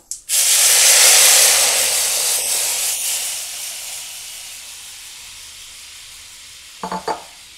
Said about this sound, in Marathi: आता आपण ते मिक्स केलेलं ताक त्यामध्ये ओतूया।